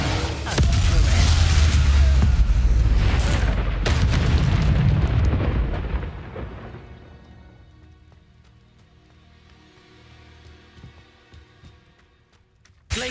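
Confringo fire spell blasts in Hogwarts Legacy: loud, rumbling explosions with sharp cracks fill the first six seconds, then fade into a quiet tail, with a final sudden burst at the very end.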